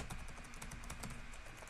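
Typing on a computer keyboard, a quick run of soft, even key taps over a constant low hum, faint and close, with nobody speaking.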